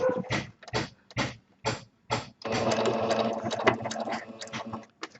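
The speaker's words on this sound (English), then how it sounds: "Now, when you're free motion sewing," Sewing machine doing free motion stitching around a bird's cheek on fabric, running in short rapid bursts with pauses, then a longer steady run; close and clear with no talking.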